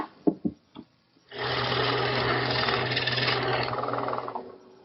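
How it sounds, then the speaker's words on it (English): A power drill with a 1 3/8-inch Forstner bit bores holes in wood for a toy chest, whirring steadily for a few seconds after a couple of brief knocks, a steady motor hum with a rough cutting texture, close by. "Now I'm drilling some 1 3/8" diameter holes with a Forstner bit to hold the checkers"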